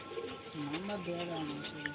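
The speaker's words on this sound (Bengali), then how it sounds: "শরীফুল ভাই আর এক পেয়ার কালদম পায়রা সেলের জন্য নিয়ে এসছে।" Kaldam pigeons give low, wavering coos close by, a short run of soft throaty calls.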